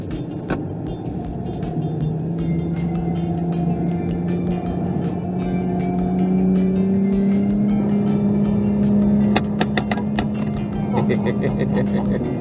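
A Nissan 400Z sports car engine hums and revs while driving on a track, a steady rising and falling drone heard from inside the cabin, with people talking over it throughout.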